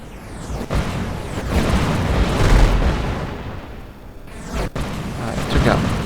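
Missile explosions in a combat video game: several booming blasts rolling one after another at moderate loudness, with sharp cracks near the start and near the end.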